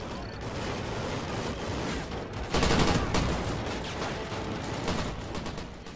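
Dense, continuous gunfire from Call of Duty Ghosts, with a heavy burst of shots swelling loud near the middle and sustained rapid fire throughout.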